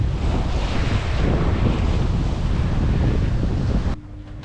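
Ocean waves and strong wind roar steadily around a sailboat off Saint Lucia, with sargassum-laden fishing lines trailing, a dense continuous wash of surf and wind buffeting that cuts off abruptly near the end.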